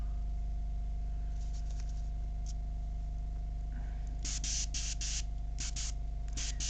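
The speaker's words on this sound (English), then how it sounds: "So I can actually feel in the airbrush that this paint's starting to thicken up a bit as it's coming through" An airbrush sprays thinned paint in short hissing bursts, several quick puffs clustered in the second half over a constant low electrical hum from the compressor.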